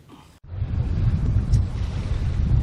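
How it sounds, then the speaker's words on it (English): Strong wind blows across the sea on a boat during a winter fishing trip off the Coromandel, a loud, steady buffeting roar after a brief quieter moment at the start. "She's a bit windy today."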